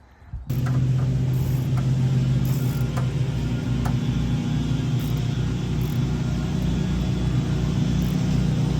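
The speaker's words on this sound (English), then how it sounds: "And we got ourselves a running Crown Vic." A Ford Crown Victoria engine, just repaired, fires up and settles into a steady low idle, a continuous close hum with a faint rattly texture that holds for several seconds.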